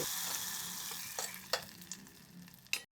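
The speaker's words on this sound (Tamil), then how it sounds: "இதை சேர்த்துட்டு நல்லா வதக்கி விட்டுக்கலாம்" Steady, close sizzling of garlic and curry leaves sautéing in hot oil in a pan for a raw mango dal kuzhambu, with a few sharp spatula scrapes and clinks and no voices.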